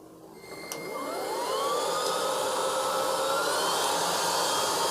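A vacuum cleaner whirs up after a click and settles into a steady, loud high-pitched drone, running continuously nearby with no talking.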